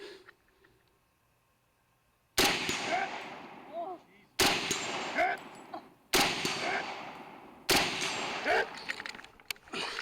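Four loud, sharp gunshots crack out at roughly two-second intervals at steel targets (a tree and hanging plates) in a two-gun shooting competition, each followed by a ringing decay, after a quiet opening.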